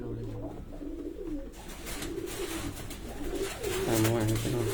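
Male flying pigeons coo in low, throaty, repeated calls nearby, louder toward the end, while someone talks over them.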